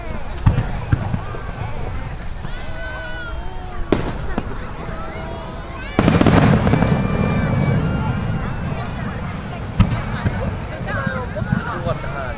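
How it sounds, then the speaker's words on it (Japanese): Fireworks at the Kurihama Perry festival in July 2016 boom in several sharp bursts, with a heavy one midway and others at the start and near the end, over steady crowd noise and people talking nearby. "すごかった花火が。"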